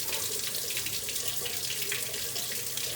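Tap water runs steadily over a hand and a foam pad, making a continuous close hiss of flowing, splashing water with no talking.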